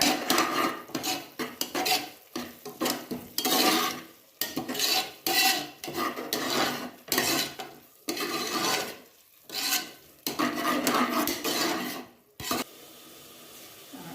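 Ground chili, turmeric, coriander and garam masala powders are stirred in a pan for tomato rice, a spoon scraping and rasping against the metal in repeated bursts with short pauses between strokes.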